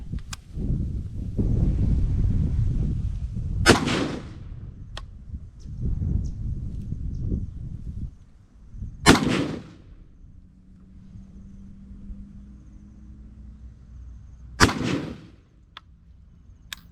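Three sharp, loud gunshots ring out, spaced several seconds apart, as a gun is fired through sand piled in front of its muzzle. Low rumbling handling noise fills the gaps between the shots, and no one speaks.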